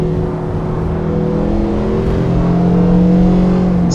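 A BMW race car in the racing sim Assetto Corsa EVO drones steadily at close range, its engine note holding and rising slightly with no talk over it.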